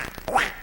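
A single cartoon duck quack in a children's story, one short nasal call rising and falling near the middle of a brief quiet moment, close and clear with no talking.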